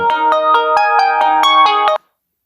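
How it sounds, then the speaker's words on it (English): A mobile phone rings loudly nearby, a rapid melodic ringtone of repeating tonal notes that stops abruptly into silence after about two seconds. "My phone was ringing. That was probably loud."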